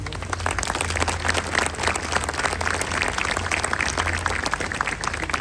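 An outdoor crowd applauds at the inauguration of Square Benes in Saint-Laurent-du-Var, France, with brisk, continuous clapping at close range that holds steady throughout.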